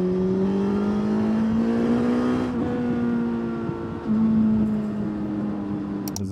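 Suzuki GSX-S1000 GT sport-touring motorcycle accelerating, its engine note climbing steadily through gears with a brief dip at a shift, close and loud, with wind rush and no talk.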